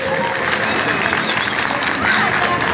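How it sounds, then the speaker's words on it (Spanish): Dense, steady crowd applause at a bull-riding festival, with continuous clapping and cheering filling the space at a consistent volume throughout. "Gracias a los aplausos."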